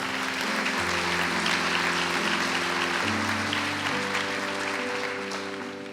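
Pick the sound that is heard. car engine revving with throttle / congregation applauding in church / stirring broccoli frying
congregation applauding in church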